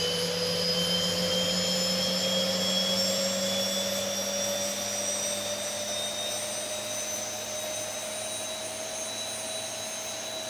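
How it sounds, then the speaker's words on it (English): A Boeing 737-800 jet engine starting in the X-Plane 11 flight simulator: a steady, high whining turbine drone with a rising tone holds for several seconds, loud and continuous, with no talking. "That's one engine started."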